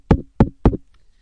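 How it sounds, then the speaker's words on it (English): A microphone knocks against knee pads three times in quick succession, sharp close dull thumps spaced evenly, then silence. "That is the sound of the microphone hitting my knee pads."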